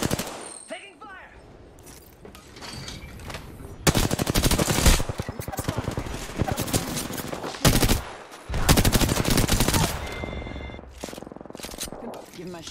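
Rapid automatic gunfire from the video game Apex Legends, long loud bursts of machine-gun fire with brief pauses, mixed with game sound effects and voice callouts.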